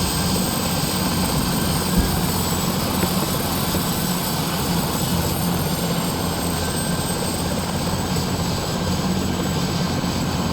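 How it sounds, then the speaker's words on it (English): Bell 412 helicopter engine turning at ground idle in the Prepar3D flight simulator, a steady loud turbine whine and rotor drone holding constant and unbroken throughout, with no talking. "we'll reduce engine power to ground idle"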